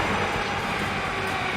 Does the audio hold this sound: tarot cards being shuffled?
no